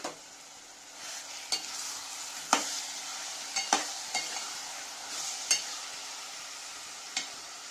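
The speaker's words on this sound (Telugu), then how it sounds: "కొంచెం అల్లం వెల్లుల్లి పేస్ట్ కూడా వేసుకొని బంగాళదుంపల్ని మగ్గించుకుందాం" Potatoes with ginger garlic paste cooking in a pan for a chickpea potato curry, a soft steady sizzle with sharp scraping stirs from a spoon breaking in every second or so. No voices are present.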